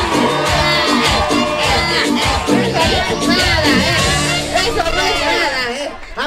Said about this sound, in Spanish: fíjate cómo gritan y aplauden.